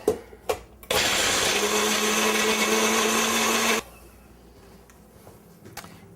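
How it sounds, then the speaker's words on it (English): A Magic Bullet blender whirs loudly and steadily for about three seconds while blending an olive oil and thyme marinade, with a few short knocks before it starts and quiet handling after it stops. "I love these magic bullets"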